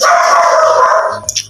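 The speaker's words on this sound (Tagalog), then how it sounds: "Tumatahol pa yung aso, ngayon yung aso." A dog gives one long, loud drawn-out bark or howl close by, lasting over a second and tailing off, followed by faint small noises.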